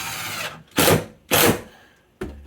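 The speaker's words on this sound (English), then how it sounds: "right now we just put in a short screw here just to hold it against the" Power drill driving a short screw into hardwood paneling on a pantry wall, heard as two close, loud whirring bursts of about half a second each, followed by a brief start of a third.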